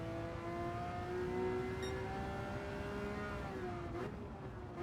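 A race car engine in Gran Turismo 7 holds a steady, high harmonic drone, dips briefly as the car brakes near the end, then picks up again, constant and close with no speech.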